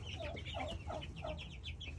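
Small chickens on a farm give a quick series of soft clucks and chirpy calls, close and fairly quiet over a low background hum.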